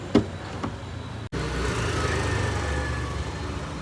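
A Hyundai Elantra with a 4-cylinder petrol engine and a torque converter automatic gearbox drives off. A soft thump comes first, then a brief cutout, then a low, steady engine hum.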